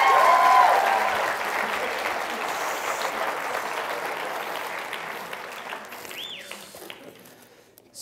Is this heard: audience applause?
yes